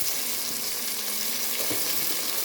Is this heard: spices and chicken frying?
yes